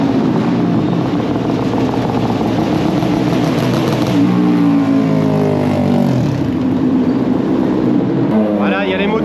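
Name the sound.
Moto2 racing motorcycles leaving for practice session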